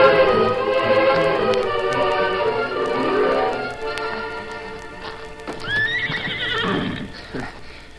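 Horses at a livery stable neigh repeatedly, with loud whinnies rising over a steady clip-clop of hooves nearby, a shrill whinny standing out near the end; no speech.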